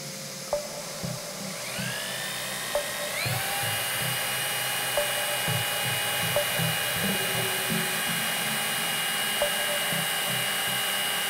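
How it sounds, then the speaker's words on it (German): A vacuum nozzle draws dust from a hole drilled into a wall with an ordinary SDS bit as part of a dust-free drilling setup. The motor whines up in pitch, then holds a steady close roar with a few faint clicks and no talking. "ich sauge jetzt einfach mal am Bohrloch ab"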